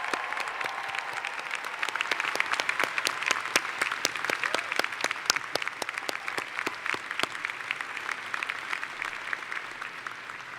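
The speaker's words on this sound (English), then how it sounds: "Please join me in applause for all your loved ones who helped you get here today." A college commencement audience applauds steadily for loved ones, a dense sustained clapping from a large crowd heard from a distance, with a faint voice underneath.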